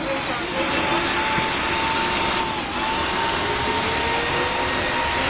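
A Pan Am Boeing 747 pushes back in the Roblox PTFS flight game, with a loud continuous jet engine roar and a faint steady whine, unchanging throughout.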